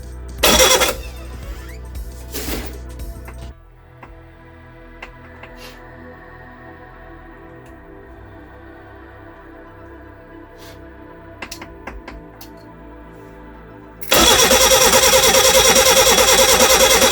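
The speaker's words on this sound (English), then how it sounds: "Got a little backfire at the carb then, so timing may be a bit off." A Reliant Regal Supervan 3 engine with slightly off timing cranks in loud bursts and catches briefly, then idles unevenly with a few sharp carburettor pops before surging into a loud, steady running roar.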